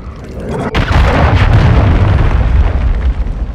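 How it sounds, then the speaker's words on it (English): A cruise missile explodes in Call of Duty: Modern Warfare II with a sudden loud boom that becomes a sustained, heavy, rumbling roar, close and filling the space, with no voices over it. "Hostile cruise missile incoming!"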